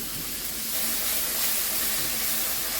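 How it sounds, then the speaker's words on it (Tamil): Tomatoes sauté in hot oil for a spicy chicken curry, making a steady, close, even hiss of sizzling that continues without a break or any voices. "ஓகே, தக்காளி பழம் வதங்கட்டும் பார்ப்போம்"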